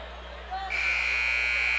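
Basketball game buzzer ending the quarter, a long loud steady electronic buzz that starts abruptly and holds to the end, over a commentator's voice and gym noise.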